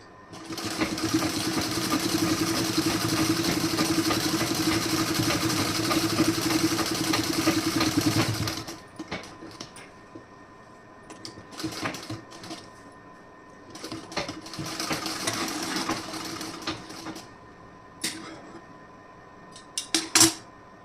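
A sewing machine stitches blouse or kurti seams and piping in one steady, loud, whirring run lasting about eight seconds, then stops, leaving quieter handling clicks and brief bursts of movement.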